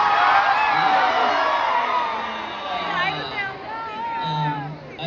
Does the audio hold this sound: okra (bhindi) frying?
no